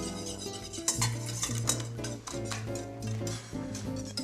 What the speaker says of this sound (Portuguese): Sempre incorporando bem os ingredientes.